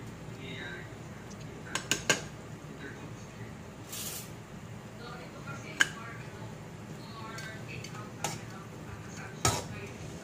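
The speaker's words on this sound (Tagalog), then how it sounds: "haluin natin ito ng kumalat ng lasa" A spoon stirs adobong kangkong in a metal cooking pot, producing scattered light clinks and taps against the sides at irregular intervals. A person speaks quietly over a soft cooking hiss.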